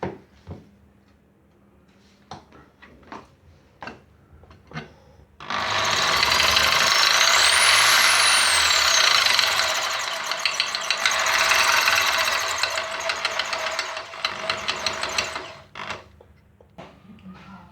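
Drill boring a hole through ceramic tile: after a few faint taps, one sustained loud grinding whine of about ten seconds with a gritty rattling texture, close by, then the sound stops.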